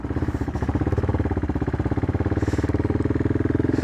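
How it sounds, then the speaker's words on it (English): A CCM Flat Tracker motorcycle engine runs close by with a steady, fast, even pulsing throb that stays constant for a few seconds, with no voices over it. "Sat on this awesome looking bike. It sounds gorgeous."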